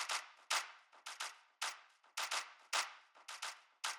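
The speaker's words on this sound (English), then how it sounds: "For the rhythm I added a clap loop." A clap loop drives the rhythm of a tropical house track, with sharp, bright claps landing in an uneven syncopated pattern, each hit followed by a brief reverb tail, heard alone and fairly loud.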